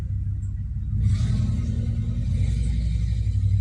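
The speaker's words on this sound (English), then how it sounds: "Wait for this car to go by. This truck." A truck passes by outdoors, a heavy low engine rumble that swells after the first second and then holds steady and loud, with no one talking over it.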